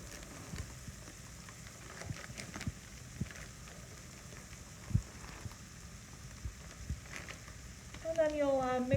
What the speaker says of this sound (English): Next, you're going to add the rice in.